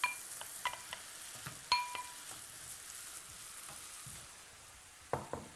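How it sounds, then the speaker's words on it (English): Carrots and potatoes sauté in a pan, a soft continuous sizzle broken by scattered metallic clinks and stirring knocks, with a few sharper utensil taps near the start and end. "So while the carrots and the potatoes are starting to saute"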